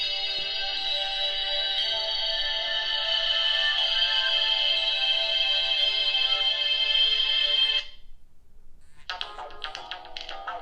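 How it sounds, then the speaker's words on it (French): A Nokia 8800 ringtone plays a bright electronic melody for several seconds, then stops and a short burst of different tones follows. "les fameuses sonneries soi-disant faites par un compositeur exprès"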